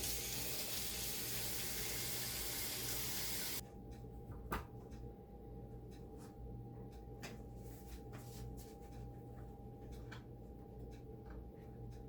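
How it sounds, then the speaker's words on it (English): Cold tap water runs steadily over an onion into a kitchen sink for about three and a half seconds, then shuts off, leaving quiet room tone and a few small clicks. "I like to run my onion under cold water before I start chopping"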